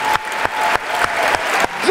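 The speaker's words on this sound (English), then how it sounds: "Round of applause for Trillium." An audience applauds a poet named Trillium at the Verselandia poetry slam, a steady, dense wash of many hands clapping close by, running continuously without speech over it.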